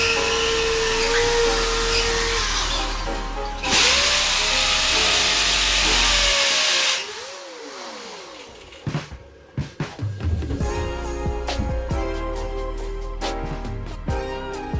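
A power drill bores holes into a ceiling during house renovation, a loud, harsh whirring roar that cuts off, then gives way to a winding-down motor whine and short bursts of drilling.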